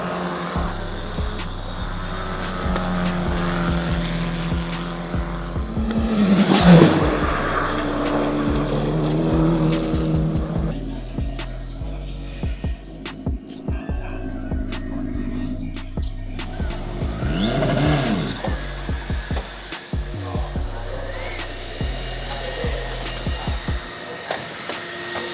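F4 single-seater race cars running on slick tyres around Chang International Circuit, engines droning steadily for the whole stretch with a louder pass near the middle and another surge later, plus brief tyre squeal.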